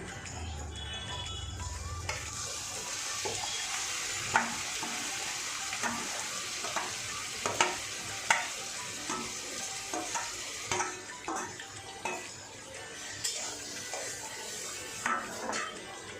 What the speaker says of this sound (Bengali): এবার আমি কুমড়োটা দিয়ে দিচ্ছি